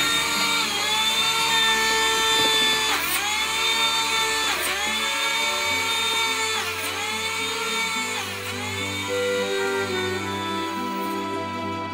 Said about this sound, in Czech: Používáme k tomu vrtačku. Je to taková ruční vrtačka, kterou vidíte, a s tím si navrtáme ty dírky.